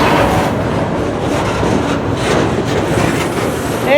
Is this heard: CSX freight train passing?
yes